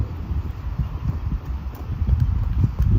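A horse's hooves clip-clop at a steady walking rhythm on a road, close by, with light wind noise in the background.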